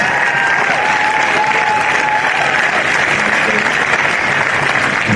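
Steady, loud crowd applause for the runners-up North Shore Mariners at a football grand final, dense clapping filling the whole stretch with a faint tonal hum running underneath.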